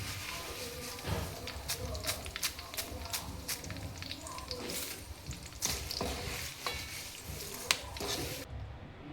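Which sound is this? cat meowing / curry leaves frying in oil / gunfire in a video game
curry leaves frying in oil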